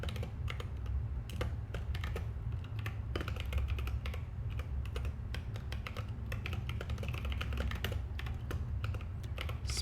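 Fast, irregular keystrokes clatter on a computer keyboard nearby, a continuous run of crisp clicks over a low background hum.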